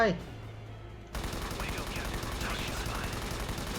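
Rapid gunfire rattles through a firefight in the video game Ghost Recon Advanced Warfighter 2, bursts of automatic shots starting after a quiet moment and continuing densely, loud and close.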